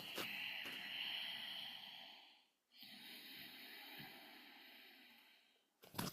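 Ujjayi breathing through a constricted throat, long, hushed, ocean-like breaths at close range, one drawn-out breath, a brief pause, then another, with a short sharp sound at the very end.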